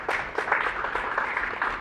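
An audience breaks into applause, dense clapping with steady rhythm that stays moderately loud throughout, heard alone without speech.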